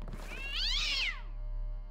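Angry cat in the Deus Ex video game, a single drawn-out, rising and falling yowl after being stepped on, fairly close and clear over a low steady background hum, with no speech.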